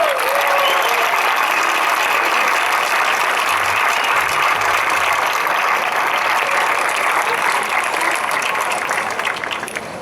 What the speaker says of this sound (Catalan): ni més ni menys que el Vicenç Martín, per qui demana un altre fort aplaudiment.